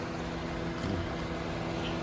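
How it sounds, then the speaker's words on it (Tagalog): A steady idling engine hum comes from a Honda CR-V, continuous and fairly loud with a constant low drone and airy noise, no voices. "So ito yung kanyang makina mga boss."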